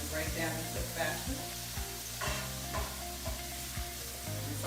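Portobello mushrooms sautéing in oil in a pan sizzle steadily and close up, with faint stirring and light clinks of a utensil against the pan, no talking.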